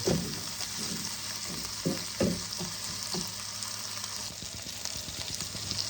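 Ginger garlic paste frying in oil makes a continuous bright sizzle, close and steady, with a few dull knocks and stirring scrapes early on and no one speaking.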